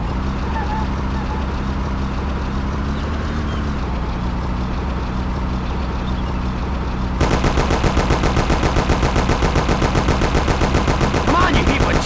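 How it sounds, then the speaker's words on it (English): Rapid bursts of Thompson submachine gun fire in the game Mafia start partway through, loud and rattling, over a droning car engine. "Take my Thompson. You and Sam shoot them."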